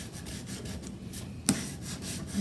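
A large emery board rubbed back and forth over a surface, giving steady soft scratchy strokes close up, with one sharper knock partway through.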